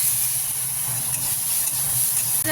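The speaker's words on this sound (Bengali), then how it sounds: "জিরে ফোড়ন দিলাম দিয়ে দিচ্ছি পেঁয়াজ" Onion goes into hot oil with a cumin tempering and gives off a continuous, even hiss of frying, close and unbroken, with a low hum beneath.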